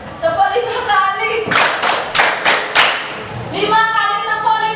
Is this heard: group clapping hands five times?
yes